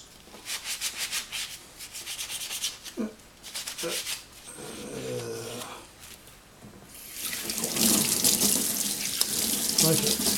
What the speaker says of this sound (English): This water's getting hot and my hands are getting all soapy.